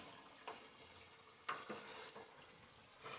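Potatoes and keema sizzle quietly in a pot while being stirred, with a few soft scrapes and clinks of a utensil against the metal and no talking.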